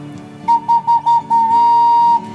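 A wooden pipe from a small church's pipe organ sounds a pure, flute-like tone, first in four short repeated notes, then one sustained note held for under a second.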